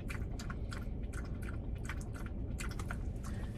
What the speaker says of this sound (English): your Buster slurping up his water